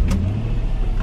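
A car backs up slowly in reverse, giving a low, steady engine rumble close by for about a second with no one speaking.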